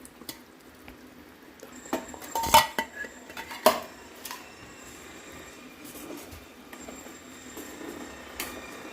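Quiet clinking of a metal spoon against a pot while beaten buttermilk is added and stirred into a boiling Tamil mor kuzhambu, with a few sharper clanks among soft scraping.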